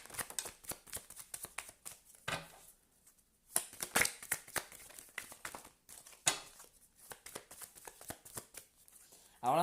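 Tarot cards being shuffled by hand in a series of crisp riffles and slaps, close and fairly quiet, with short pauses between bursts and no talk.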